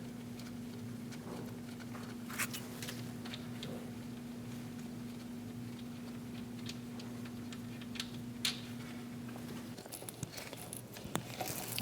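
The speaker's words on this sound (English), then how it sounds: "Using an 8mm wrench, we're going to remove the bolt for the ABS sensor." An 8mm wrench ratchets on the ABS sensor bolt of a Chevrolet Express 2500, producing faint, irregular metallic ticks and clicks over a steady low hum, close and quiet, no voices.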